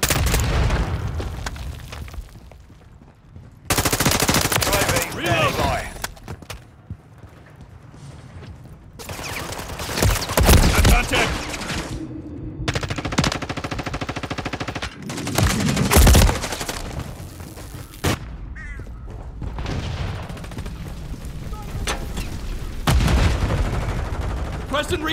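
Gunfire in a Call of Duty video game: repeated loud bursts of automatic fire and heavy booms, coming in waves with brief lulls, with radio-style voices now and then.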